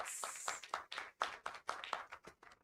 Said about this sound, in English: put your hands together in a massive round of applause for our panelists